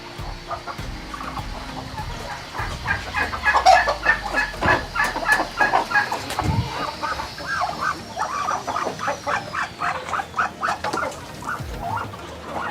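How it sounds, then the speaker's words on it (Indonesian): About seven brooding turkeys clucking in a rapid run of soft, close calls, with rustling and a few knocks in the background. "kayaknya sekitar 7 ekor kalkun yang sedang mengeram"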